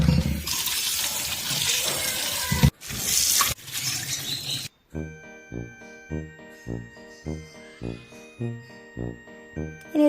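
Soaked mung beans are rinsed under running water in a kitchen, a loud, rushing splash for several seconds that cuts off sharply and is followed by a run of light rhythmic tinkling tones.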